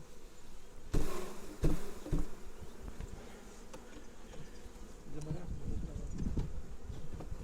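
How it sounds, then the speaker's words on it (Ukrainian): Honeybees buzz in a dense, continuous drone close by as hive frames are shaken out to fill bee packages, with thuds and knocks from the frames and occasional quiet voices underneath. "Ну, тут теж пчели."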